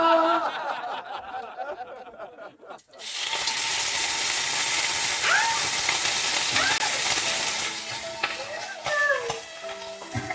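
Loud, steady sizzling of pork frying in a pan for pork bistek starts after a brief stretch of quiet talk and continues throughout, with a few faint squeaks over it.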